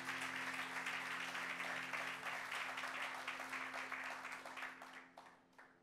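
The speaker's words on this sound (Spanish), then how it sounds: "No me deje esa persona aplaudiendo sola, por favor." Congregation applause during a church sermon in New York, a broad continuous clatter of many hands that stays steady and then thins out and fades toward the end, with no talking over it.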